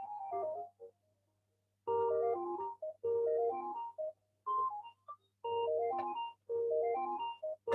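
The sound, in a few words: telephone ringing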